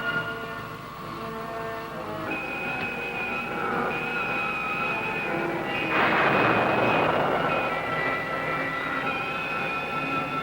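A spaceship engine roars in a 1965 science-fiction film, a steady droning thrust with a whining tone that swells louder and harsher partway through, heard alone without talk.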